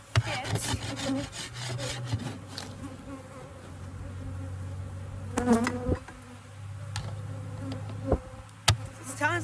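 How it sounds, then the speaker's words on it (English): Angry honeybees buzz close around an opened beehive during a hive check, a dense, wavering drone mixed with scraping and rubbing of wooden hive parts. "the bees are really angry and buzzing all around you"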